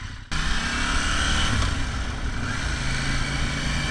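A KTM 790 Duke motorcycle carrying two riders hums along at steady cruising speed, its engine and wind noise holding evenly after a brief quiet start.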